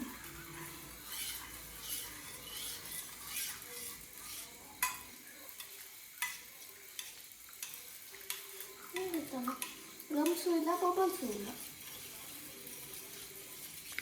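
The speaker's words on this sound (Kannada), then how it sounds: "ಸ್ವಲ್ಪ ಬಿಸಿ ನೀರು ಕಾಯಿಸ್ಬಿಟ್ಟು ಅದಕ್ಕೆ ಈ ಪೌಚಲ್ಲಿರೋ ಪೌಡರ್ನ ಹಾಕಿ ಮಿಕ್ಸ್ ಹೊಡೆದ್ರೆ ಸೂಪು ರೆಡಿ ಆಗುತ್ತೆ" Manchow soup powder from a pouch being stirred into hot water, a scraping, swishing stir with soft clinks that grows louder and busier toward the end, no talk.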